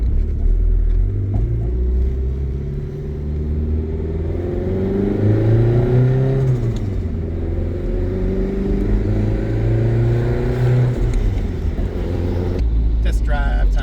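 A 396-horsepower Nissan S15 Silvia with a turbocharged SR20 accelerates hard on a test drive, the engine note rising through the gears under a deep, loud in-cabin rumble, with a voice talking over it.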